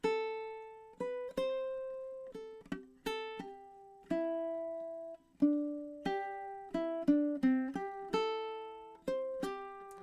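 Plucked ukulele picking out a melodic riff, single clear notes with ringing decay in a steady rhythm, close and alone without voices.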